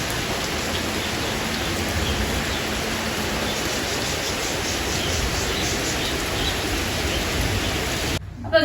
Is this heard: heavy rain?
yes